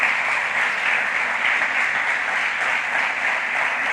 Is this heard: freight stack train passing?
no